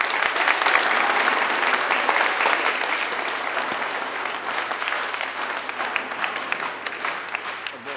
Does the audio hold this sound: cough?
no